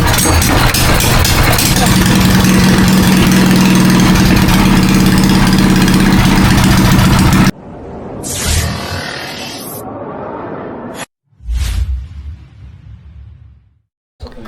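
A motorcycle engine idles loudly and steadily with a low rumbling throb, then cuts out, followed by muffled handling noises and a short rev.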